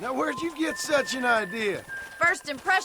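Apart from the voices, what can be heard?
No everyday noise stands out behind the speech.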